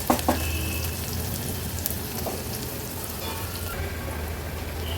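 Onion frying over a medium flame in a pan for an Agri Koli style home dish, a steady close sizzle with crackling pops and a low hum underneath, no voices.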